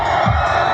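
A crowd cheers and applauds at an outdoor Užgavėnės Shrovetide festival in Palanga, a loud, dense burst of voices and clapping from many people, brief and continuous.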